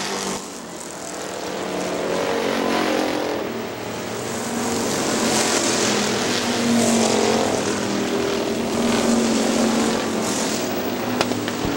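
Factory stock race cars circle the track at Hartford Speedway Park, their engines roaring continuously as they pass, with the loud drone rising and falling as the pack goes by.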